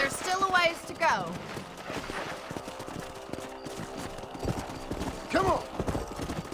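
Horse hooves clip-clop in the Western video game Red Dead Redemption, a steady rhythmic patter running beneath character speech and game music, with some gunfire-like bursts mixed in.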